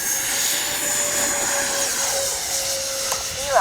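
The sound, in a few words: radio-controlled model airplane from Bitco Hobby flying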